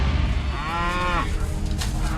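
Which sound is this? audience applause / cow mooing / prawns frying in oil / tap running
cow mooing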